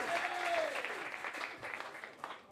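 Applause from a live show audience, a brisk burst of many hands clapping that starts strong and gradually thins, with a brief voice-like tone early on and scattered claps near the end.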